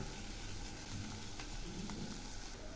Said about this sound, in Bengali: একটু কড়া করে কষিয়ে নিচ্ছি, তাহলে পেঁয়াজের কাঁচা গন্ধটা থাকবে না।